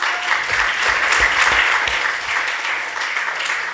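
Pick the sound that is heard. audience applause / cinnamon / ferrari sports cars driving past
audience applause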